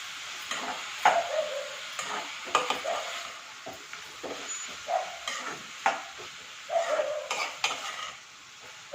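Tomato and onion cooking with salt in a pan for a mushroom masala, a spatula scraping and stirring in irregular strokes over a soft steady sizzle, close and moderately loud, with no voices.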